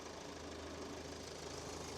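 Kia Sorento 2.2 CRDI diesel with AWD and automatic transmission idling, a steady low rhythmic clatter and hum, even and unchanging, heard close up without talk.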